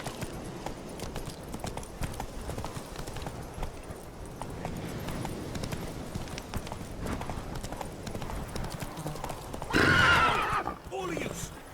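Roach the horse in The Witcher 3, hooves clip-clopping in a steady gallop under speech, with a sharp neigh near the end.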